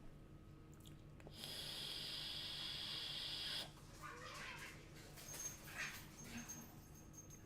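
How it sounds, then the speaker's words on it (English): A dog and a cat fight, with a sustained hissing snarl followed by scattered scuffling, snorts and short yelps, fairly close. "Listen to the dog fight with the cat."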